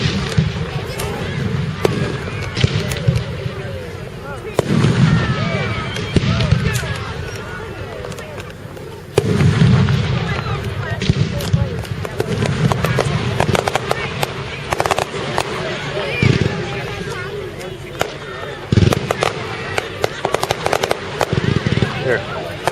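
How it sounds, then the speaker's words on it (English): Fireworks at a 4th of July parade in Hartford, Wisconsin, with dense crackling bursts and sharp bangs in rapid irregular succession, loud and fairly near, while people talk and children's voices come through underneath. "Do you like the fireworks?"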